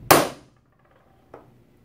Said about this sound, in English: I'm going to go and give these a good hard whack.